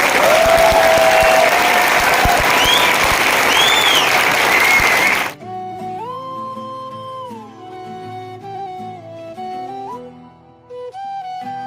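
Audience clapping at a business plan presentation, a loud, dense burst of many hands for about five seconds, then it cuts abruptly to music.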